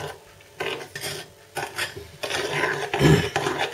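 Cupcake batter with chocolate chips is mixed by hand in a bowl, giving repeated scraping and stirring strokes in an uneven rhythm, close and fairly quiet.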